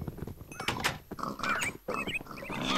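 Pig-man creatures in a Minecraft-style game grunt and oink repeatedly in short, rough bursts, fairly close and clear, mixed with a few clicks and game effects.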